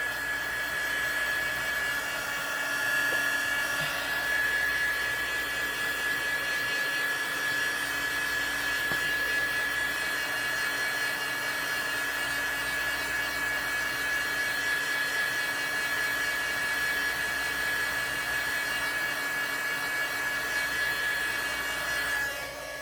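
A hair dryer blows steadily and close to dry watercolor mixed with resin, a constant loud rushing whine with a high tonal hum that holds unchanged throughout, with no talking.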